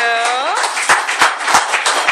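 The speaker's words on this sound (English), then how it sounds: "let's give one more round of applause to our speakers." Scattered clapping at a community event on bullying after the speakers finish. A tonal voice sounds at first, then several loud, close, uneven hand claps follow.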